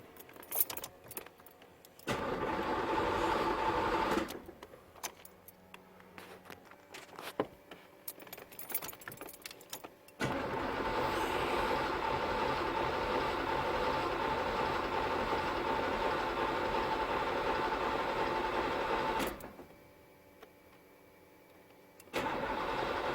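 A 1968 Chevrolet K10 truck engine cranks over briefly, catches and settles into a steady idle, with a short quieter gap before a near, continuous running sound resumes.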